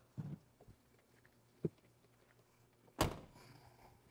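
A 1995 Chevy car door is shut on folded microfiber cloths that hold a dash cover in place while the silicone cures; one muffled thunk lands near the end, after a couple of soft handling taps.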